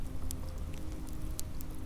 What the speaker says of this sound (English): You hear only the rain, the waves, the fire